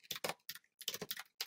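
Quick bursts of keystrokes on a computer keyboard come in uneven clusters with brief pauses, close and crisp, with no voices.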